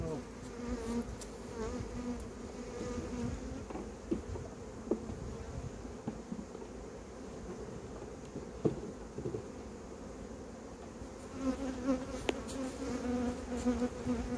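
Honey bees buzz at two hives in a dense, steady drone close by, with individual insects flaring louder now and then as they pass near.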